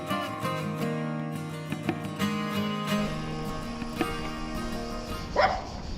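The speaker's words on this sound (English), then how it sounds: "Yeah, some kind of doggy." A dog in a quiet, deserted village along the Po River in Italy gives a few short barks and yips over a sustained tonal background, moderately close.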